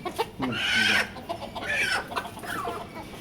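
Newly brought chickens, two hens and a rooster kept apart, cluck close by in short bursts and drawn-out calls, with a rooster's voice among them and no talk.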